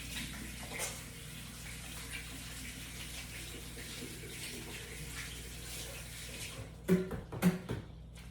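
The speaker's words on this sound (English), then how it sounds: "I'm gonna rinse my hands" Hands rinsed under a running kitchen tap, a soft steady stream of water gushing close by, ending in a few louder splashes and knocks near the end; no talking.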